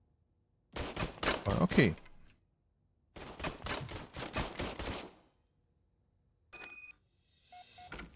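Rapid gunfire from an old gun in the video game RoboCop: Rogue City comes in two long bursts, then a short burst and one last brief volley, with quiet gaps between.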